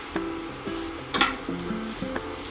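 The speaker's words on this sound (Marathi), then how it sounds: "आता मी टाकत आहे मीठ, चवीनुसार मीठ टाकायचं आहे आणि सर्व मसाला परतून घ्यायचा आहे" Boiled potatoes with salt, chili and turmeric sautéed in a pan for vada pav filling, a soft sizzle under repeated scraping strokes of a spoon, plus one louder clatter midway.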